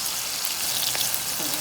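Onions frying in a pan for a Jamaican dish, a steady soft sizzle and crackle running throughout at close range, with no talk over it.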